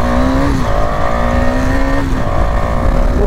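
A KTM Duke 250 motorcycle fitted with an X3 exhaust kit revs loudly and close during riding, its engine note climbing in two rising surges with a brief dip between them.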